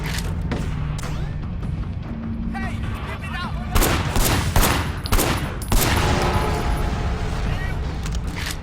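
Gunfire in Sleeping Dogs on PC, a series of sharp shots and bursts with booming impacts, loud and close, mixed with game sounds.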